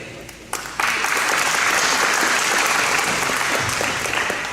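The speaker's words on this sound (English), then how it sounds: "If you guys want to clap for them while they're walking up, that's awesome." A high school audience at an academic awards ceremony breaks into loud, sustained applause for freshman award winners walking up, starting sparse and quickly swelling into a full, steady clapping roar.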